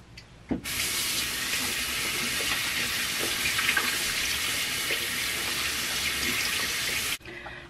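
Water pours steadily from a tap for about six and a half seconds while face foam is rinsed off, a close, even hiss that starts and stops abruptly.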